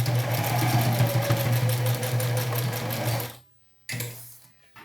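A sewing machine runs steadily while stitching a sleeve seam on a sport-collar polo-opening blouse, a loud continuous motor hum with rapid needle ticking that stops abruptly, restarts briefly, then cuts off again.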